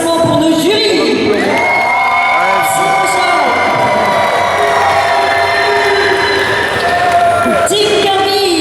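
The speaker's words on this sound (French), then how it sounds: "un tonnerre d'applaudissements pour nos jurys" Crowd at a cosplay contest results ceremony at a summer geek festival applauding and cheering for the judges, continuous loud clapping with whoops and shouts, voices mixed in throughout.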